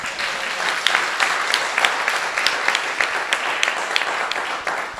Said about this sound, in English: Come on, if you're going to clap a little louder.